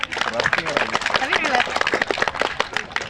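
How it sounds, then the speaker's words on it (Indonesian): Applause and cheering from a crowd at a school farewell event honouring a teacher, mixed with lively babble and voices, fairly loud and close throughout. "minta tepuk tangan untuk Ibu Mursidah"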